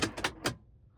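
Power door locks on a 2001 BMW E39 525i actuate in a quick cluster of sharp mechanical clacks, three or four close together at different moments, then quiet.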